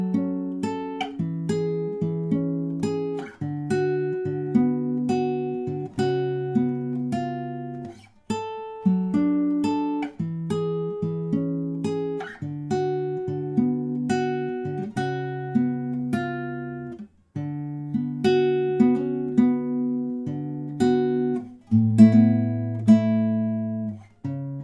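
A guitar is fingerpicked through the verse of a song: clear plucked notes and arpeggiated chords with an even, steady rhythm, played close and alone for about twenty-five seconds.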